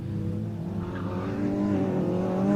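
Rallycross race cars in a BTRDA championship round at Pembrey run onto the gravel section, engines droning and revving with a rising note as they pass, fairly close and steady without speech.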